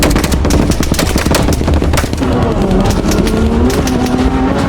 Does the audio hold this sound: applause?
no